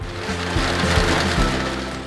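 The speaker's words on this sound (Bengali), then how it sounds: "সন্ধ্যার কিছু আগে আকাশ ভেঙে নামে বহুকাঙ্ক্ষিত বৃষ্টি" Heavy monsoon downpour pouring over a road in Bagerhat just before evening, a dense, steady roar of rain hiss that stays loud and unbroken, with a low rumble underneath.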